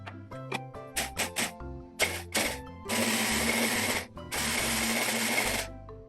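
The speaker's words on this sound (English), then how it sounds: "both the hazelnuts and the coconut, I'm gonna run through my little mini food processor because I want them chopped up" A small mini food processor chops hazelnuts and coconut: a few short pulsed whirs and rattles first, then two longer loud grinding bursts of a few seconds each, with no speech.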